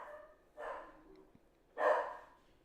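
Dog barking indoors, two short separate woofs a little over a second apart, moderately near, with no talk.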